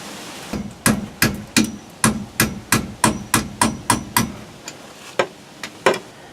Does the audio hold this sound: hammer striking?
yes